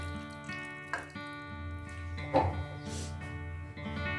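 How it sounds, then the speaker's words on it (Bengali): About a bowl of water pours into a pot for prawn biryani, a gentle splashing and trickling over a faint steady hum, with a brief louder splash midway. "দেব 1 বাটি মতো জল"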